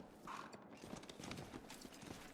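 Horse hooves clip-clop softly and steadily in a Pathfinder: Wrath of the Righteous game scene, the faint plodding running under quiet ambient sound.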